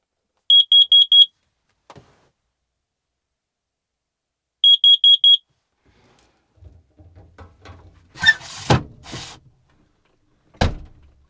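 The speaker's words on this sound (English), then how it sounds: "literally the carbon monoxide alarm went off" A carbon monoxide alarm inside a truck camper sounds twice, each time a quick burst of four sharp, piercing electronic beeps. Quiet rustling, clunks and a sharp knock follow.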